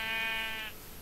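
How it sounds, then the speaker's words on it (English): A sheep in the Minecraft video game lets out one wavering, nasal bleat lasting most of a second, clear and close over faint background hiss. "There's a sheep."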